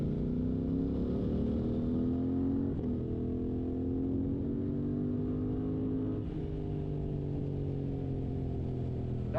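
A Suzuki GSX-8R motorcycle engine on the road, close and steady, with its pitch rising and falling through several gentle throttle changes and a brief click partway through.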